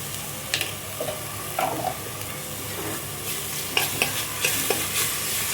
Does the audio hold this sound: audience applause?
no